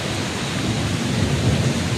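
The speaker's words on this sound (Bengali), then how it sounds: "যেরকম গর্জন হচ্ছে সেই সাথে কিন্তু বিদ্যুৎও চমকাইতেছে এবং বৃষ্টি" A thunderstorm over a city in Kushtia, with steady heavy rain drenching the ground and a low, continuous rumble of thunder beneath it, loud and unbroken throughout.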